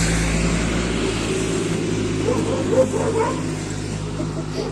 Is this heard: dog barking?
yes